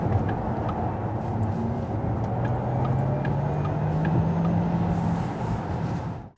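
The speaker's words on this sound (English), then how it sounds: "you still get to hear the electric whine noise that I've come to love so much when you accelerate" Inside a moving Porsche Taycan electric car, a steady low road and tyre rumble fills the cabin while a faint rising electric motor whine glides upward under acceleration, then the sound cuts off abruptly.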